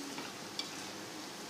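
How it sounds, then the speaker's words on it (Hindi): Arbi (colocasia) leaf pakoras being lifted out of hot deep-frying oil, a steady soft sizzle and bubbling throughout with one faint clink of a utensil, no talking. "ये जो हमने दूसरा वाला डाला था डीप फ्राई होने के लिए, इसको भी मैं अब निकालने लगी हूँ बाहर।"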